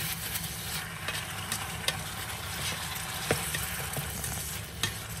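Red curry paste stir-fry frying in a pan, a constant loud sizzle with occasional scraping clicks as the mixture is stirred, close by and with no talking.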